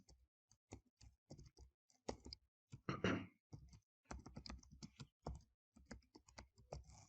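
Keys clatter on a computer keyboard as an address is typed, a sparse run of crisp close taps in short irregular bursts with brief pauses between words.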